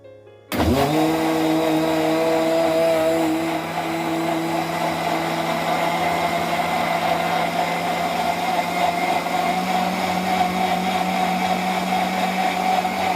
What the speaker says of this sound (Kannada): ಬನ್ನಿ, ಈಗ ಇದನ್ನ ಮಿಕ್ಸಿ ಮಾಡ್ಕೊಳ್ಳೋದ.